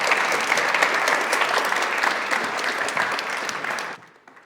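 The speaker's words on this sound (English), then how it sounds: "Give me a round of applause." An audience at a business talk gives a round of applause, a loud dense clapping crowd that holds steady, thins slightly, then drops off sharply near the end.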